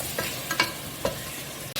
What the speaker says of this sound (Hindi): मटन मैंने ऑयल में ऐड कर दिया और इसको मैंने फ्राई करना है।